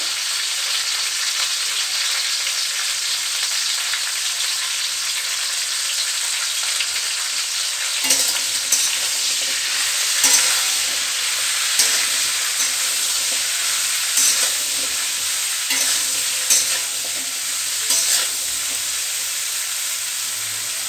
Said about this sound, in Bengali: ঢেঁড়সটা একটু ভাজা হোক।